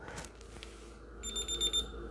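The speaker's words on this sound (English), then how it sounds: "wait for the beep" A digital angle gauge set on a car wheel gives a short electronic beep after being zeroed, a clear high-pitched tone rising above low background noise near the end.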